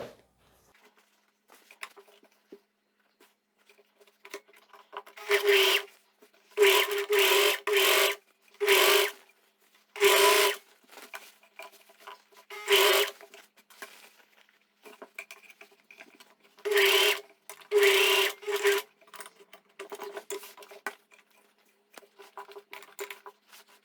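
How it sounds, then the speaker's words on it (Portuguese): Domestic sewing machine running a continuous seam along the side of a knit mid-length dress, in about ten short loud bursts of rapid stitching separated by pauses and soft handling sounds. "Vou dobrar aqui pra lateral e vai ser uma costura contínua, ó. Vou costurando aqui."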